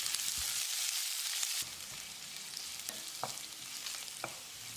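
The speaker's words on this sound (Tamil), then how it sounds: "வெங்காயம் கண்ணாடி பதத்துக்கு வதங்கினாலே போதும்." Two medium onions, sliced lengthwise, sizzle and fry steadily in a pan for a rice dish, with occasional stirring clinks and scrapes over a constant hiss; no one speaks.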